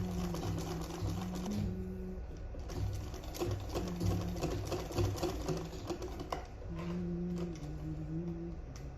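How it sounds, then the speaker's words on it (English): A sewing machine stitches the neckline of a sleeveless gown in steady close bursts, its quick needle whir pausing briefly midway before resuming. "you can use your loose stitch to sew, there's no problem, but be sure to not drag your fabric."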